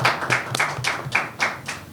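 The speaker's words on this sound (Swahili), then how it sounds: "Pia tumpigie makofi Citizen Kona, boss wa Citizen" A few people clap slowly and unevenly for Kajala and Citizen Kona at a public appearance in Burundi, about seven separate claps in a loose rhythm, close and fairly clear.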